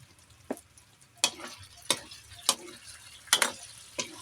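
Tofu browning in a hot pan for a string bean sauté, a soft background sizzle broken by six sharp spatula clacks and scrapes at uneven intervals, close and distinct.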